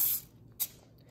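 Cooking spray hitting a bone-shaped cake mold for a dog's birthday cake: two short hissing bursts, the first longer and the second brief, close and fairly quiet.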